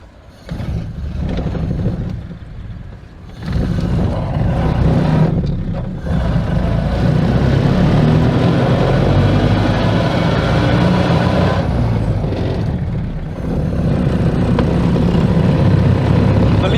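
A Ford Model A engine drones loudly and continuously while the car is driven and shifted through its gears, with brief dips in engine noise between gears before it pulls strongly again.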